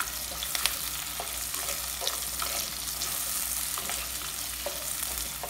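Small and large onions frying in a clay pot, a continuous close sizzle with occasional soft clicks and scrapes of stirring.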